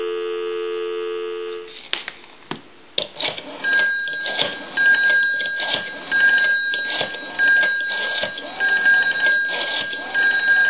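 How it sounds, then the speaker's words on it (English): A telephone line on a Northern Telecom rotary desk phone gives a steady dial tone, then clicks and a recorded time-and-temperature announcement tone pattern follow, heard through the handset at moderate level. "I'm going to give you some dial tone."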